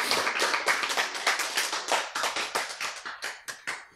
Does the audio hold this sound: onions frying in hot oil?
no